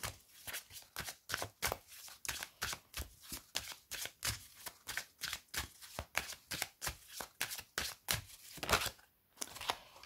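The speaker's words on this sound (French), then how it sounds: "nous allons mélanger les cartes. Donc, ils se mélangent très très bien" Oracle cards being shuffled by hand, a rapid series of crisp, papery riffles and flicks close up, steady and rhythmic throughout with no talking.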